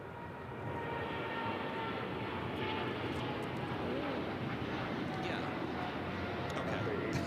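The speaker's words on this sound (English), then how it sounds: "Air China 777 freighter rolling down to 25 left" An Air China Boeing 777 freighter taxis toward runway 25 Left at LAX, a continuous broad jet engine rumble and whine from a distance over steady airport background, with speech mixed in.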